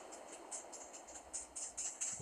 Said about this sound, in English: Here comes the lift hill again.